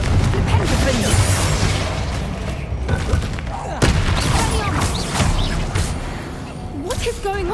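Spell blasts in Hogwarts Legacy, a run of booming fiery explosions and thuds in the middle of a chaotic combat mix with overlapping impacts, loud and dense throughout.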